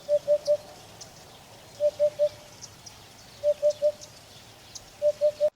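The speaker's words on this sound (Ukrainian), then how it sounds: "Такі звуки видає одуд." A Eurasian hoopoe repeats its soft hollow triple hoot, four evenly spaced 'oop-oop-oop' phrases about every one and a half seconds, clear over a faint background with distant chirps.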